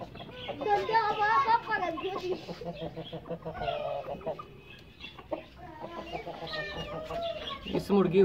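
Hens cluck in short, repeated bursts close by on a farm, with a child and other people talking over and between the calls.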